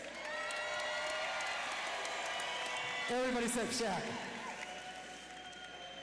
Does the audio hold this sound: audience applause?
yes